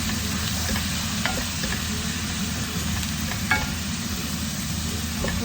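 Soy sauce goes into a hot pan and is stirred through, giving a continuous close sizzle with faint scrapes of a utensil, over a low background hum and with no talking.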